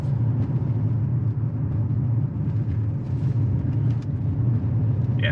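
Steady low engine rumble from a 2022 Lexus NX 350 F Sport, a front-wheel-drive based crossover, under throttle while driving, a continuous loud drone with road noise and no voices.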